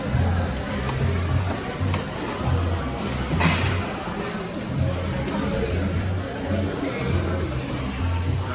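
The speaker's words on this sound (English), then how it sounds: "The Hawaiian pork belly's on there." Hawaiian pork belly sizzles steadily on a Korean BBQ grill at a restaurant table, a continuous close frying hiss with lively table chatter and talk running underneath.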